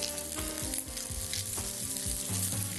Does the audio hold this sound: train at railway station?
no